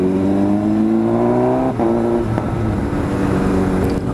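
A straight-piped Kawasaki Z900 motorcycle ridden on the road, its loud, raspy engine drone holding steady before the pitch drops briefly, then carrying on at a rumbling cruise with no voices.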